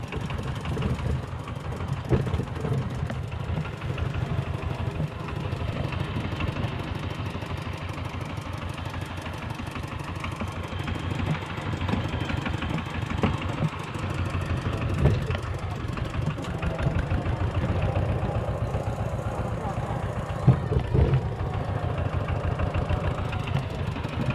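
A steady, rumbling tractor engine idles nearby with a low chugging throb and faint rattling, continuous and unchanging throughout.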